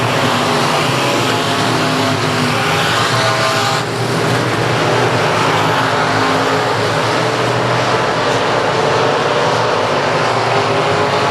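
Race cars roaring around South Texas Speedway at a stock-car event, a dense, loud engine drone running steadily throughout with cars passing near, no talk.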